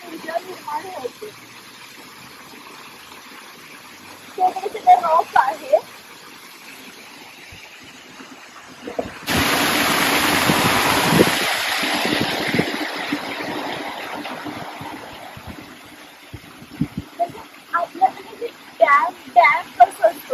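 Water gushes in a loud, steady rush for several seconds at a historic 17th-century wooden water mill at Yates Mill County Park, with quieter stretches before and after where people talk.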